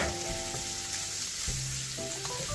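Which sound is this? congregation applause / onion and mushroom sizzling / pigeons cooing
onion and mushroom sizzling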